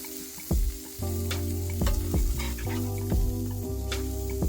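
Burger patties sear in a hot pan, a steady loud sizzle running throughout, broken by several sharp clanks and scrapes of a spatula against the pan.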